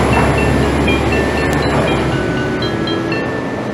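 A passenger train pulls into Pardubice main station, its steady rolling rumble and rail noise continuous throughout, with faint high squeals of wheels on track.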